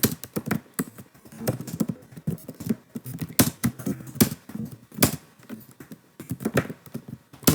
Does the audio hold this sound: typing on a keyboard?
yes